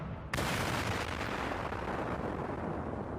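An anime explosion spell called Napalm fires off as a sudden loud blast, then a sustained roaring, rumbling burst of fire and debris that continues without a break.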